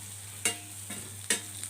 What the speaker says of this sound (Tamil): இப்போ இது எல்லாத்தையுமே இந்த எண்ணெயிலேயே நல்லா வதக்கிக்கலாம்.